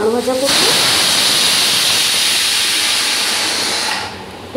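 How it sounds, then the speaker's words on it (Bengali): Rice cooking in a pressure cooker releases a loud, steady jet of hissing steam that starts abruptly, holds for about three and a half seconds, then cuts off. "এই যে প্রেশার কুকারে ভাত আছে"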